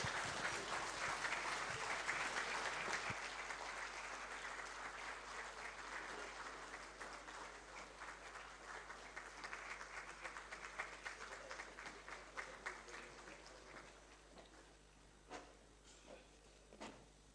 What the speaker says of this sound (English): A standing ovation for her, please. Keep clapping, please.